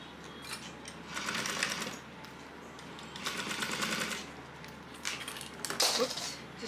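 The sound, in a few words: sewing machine back stitching a seam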